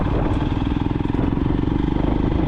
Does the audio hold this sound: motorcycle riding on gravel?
yes